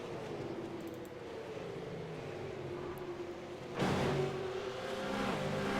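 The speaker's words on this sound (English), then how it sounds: "you can hear the revs just on the limiter over the hill." A V8 Supercar engine in the iRacing game revs on the limiter over a rise at Lime Rock Park, a faint, sustained tone that bursts louder partway through.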